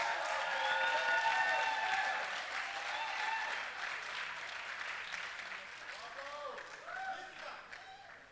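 An audience applauds warmly to welcome poet Dami Ajayi at a book launch, a dense, steady clapping that starts loud and slowly thins out over several seconds, with a few voices murmuring underneath.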